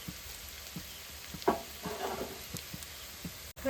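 Onion and green chilli frying in a pan give off a soft continuous sizzle with a few light ticks and one brief louder crackle of stirring, close and fairly quiet.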